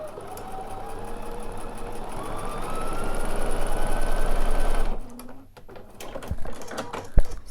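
A Bernina bulky overlock machine sews piping with a fast, rhythmic mechanical chatter that grows louder, then stops abruptly, followed by quiet handling sounds and a sharp click.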